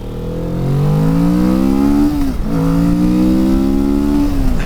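A 2024 Kawasaki Vulcan S 650 cruiser motorcycle pulls hard in first gear, the engine note rising steadily, dipping briefly at a shift or throttle lift, then climbing again, loud and close with wind rush.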